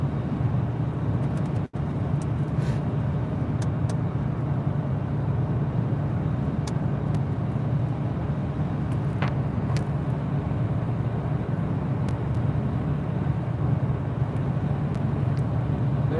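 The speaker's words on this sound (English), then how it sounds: "a car attempting to catch up to me" Car driving on a road and gaining from behind, a steady loud broadband engine and tire roar that holds constant throughout with a single sharp click near the start, no voices.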